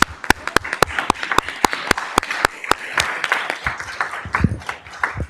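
An audience at a student recognition event claps for two students, a burst of sharp, close individual claps that thins and scatters toward the end.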